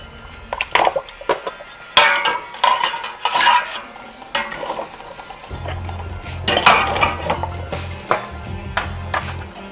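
A brass lamp and other brass items go one by one into a steel pot of boiling water, making a series of close, sharp metallic clinks and clatters over a steady bubbling background.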